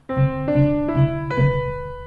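A short piano phrase of four notes, rising stepwise and then leaping up noticeably on the last one, played alone and moderately loud with a steady low accompaniment.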